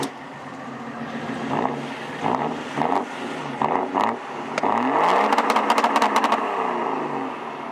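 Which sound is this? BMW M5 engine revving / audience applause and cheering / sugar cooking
BMW M5 engine revving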